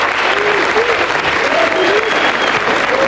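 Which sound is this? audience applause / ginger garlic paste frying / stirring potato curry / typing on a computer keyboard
audience applause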